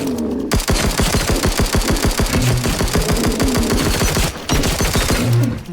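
Rapid, loud automatic gunfire from a rifle and turret in the survival game Dysmantle, a dense rattling burst of shots that runs almost continuously with only brief pauses.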